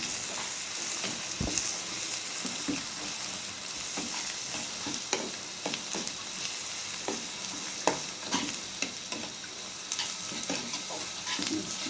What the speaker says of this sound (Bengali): মশলাগুলোকে ভালো করে কষাচ্ছি